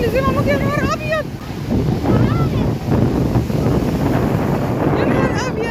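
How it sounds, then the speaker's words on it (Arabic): High surf pounds a beach on a summer seaside holiday, a loud continuous roar buffeted by wind on the microphone, while excited voices talk and exclaim over it. "الموجة العالية صوتها يخوف، مش شكل بس، ده صوت يخوف."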